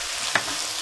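Shrimp frying in half of a pan beside vegetables, with salt and pepper added, sizzling steadily and close with a brief sharper crackle near the middle.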